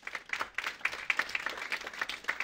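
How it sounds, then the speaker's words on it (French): Audience at a film festival award ceremony applauds warmly: a dense, steady patter of many hands clapping at once, held at an even, moderately loud level for a couple of seconds. "On peut les applaudir très fort"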